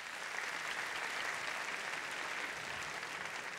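An audience at a fighting-game tournament applauds the two teams in the final match, with steady, dense clapping that holds throughout.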